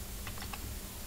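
Faint clicks of typing on a computer keyboard, a few soft keystrokes beneath a steady background hiss.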